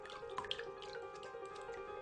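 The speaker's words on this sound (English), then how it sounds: "Pour some water and drain with a wire sieve." Water drips from rinsed broccoli sprouts draining in a wire sieve, a handful of faint, soft drops over a steady low hum in a quiet kitchen.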